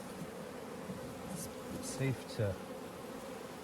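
Honey bees buzz steadily around an opened hive during a colony split, a soft continuous drone close by, with someone speaking briefly over it.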